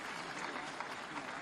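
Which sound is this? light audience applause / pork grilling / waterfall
light audience applause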